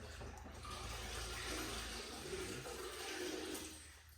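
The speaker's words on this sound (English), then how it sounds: "We're going to spray some DIY Detail Rinseless Wash to pre-wet this panel." A steady wet hiss of DIY Detail Rinseless Wash being sprayed to pre-wet a ceramic-coated car panel, continuous and fairly soft, with no talking.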